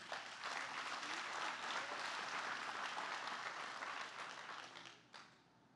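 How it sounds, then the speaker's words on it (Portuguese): Sustained applause from a large audience, steady clapping for about five seconds before fading out quickly at the end. "Pode aplaudir."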